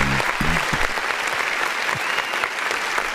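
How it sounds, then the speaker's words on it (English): A canned applause sound effect fired by a button during a live music review stream, a loud dense crowd clapping and cheering throughout, with a few brief low voice sounds near the start. "hit the button that allows us to clap"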